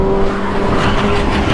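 Tires of a white car skid and squeal loudly on the road, a constant harsh hiss with engine noise during a crash involving a group of bikers.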